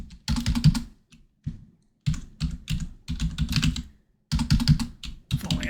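Fingers type on a computer keyboard in bursts of rapid clicking keystrokes, separated by short pauses, close and clear with no talking.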